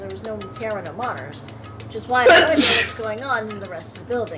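A single sharp sneeze bursts out mid-conversation, loud and close, cutting across a voice talking in a game-playing session.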